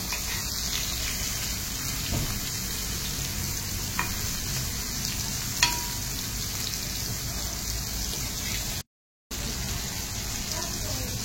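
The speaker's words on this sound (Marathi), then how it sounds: "मांदेली बघा अशी थोडी फ्राय झाली की तव्याच्या साईडला गेली" Steady, loud frying sizzle from fish cooking on a hot griddle, a continuous crackling hiss with a few faint clicks and a brief dropout near the end.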